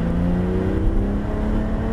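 A Porsche GT3 RS accelerates steadily around the wet Abbeville circuit, its engine a loud, continuous drone with a gradually rising tone, heard up close throughout.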